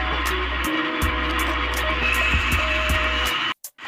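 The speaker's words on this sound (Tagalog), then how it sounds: "Blender niya ng blender" An electric blender purees mango for homemade mango ice candy, a steady motor whir with rhythmic pulsing, close and loud, then cutting off abruptly near the end.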